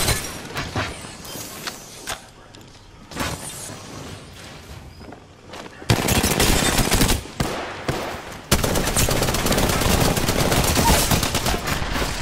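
A gun in Apex Legends fires in rapid, continuous automatic bursts, loud and dense, with scattered earlier shots and impacts leading into two long sustained streams of fire.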